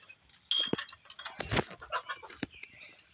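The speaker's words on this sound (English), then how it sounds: "Chickens are out. They're happy, I guess. They want food" Chickens cluck outdoors in a run of short, close calls with brief gaps, one louder burst near the middle, no talking over them.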